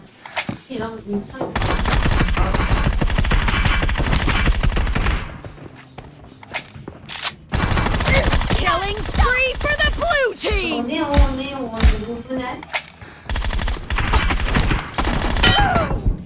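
Groza rifle in the mobile battle-royale game PUBG Mobile fires long loud automatic bursts separated by short pauses, while a game's music or voices sound underneath.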